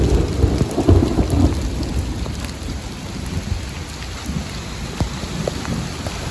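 Heavy rain pours down on a road at dawn, with loud thunder rolling in low and a steady dense patter of drops close by, no voices.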